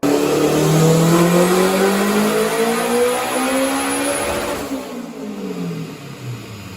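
A 500 hp Acura RSX running E85 roars on a dyno, its engine note climbing steadily in pitch through a hard pull before cutting off and easing down near the end, loud and close with no voices.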